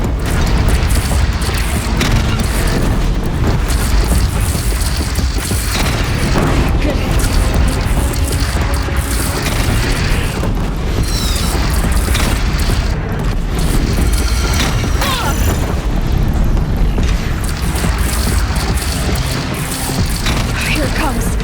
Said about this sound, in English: Deathbringer fire incoming!